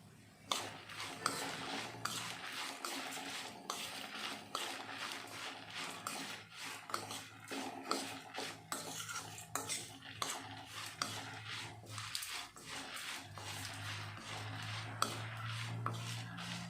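Coconut and dried spices being fried and stirred in a pan while vangi bath powder is made at home, with steady scraping strokes of a spoon against the pan over a continuous soft sizzle.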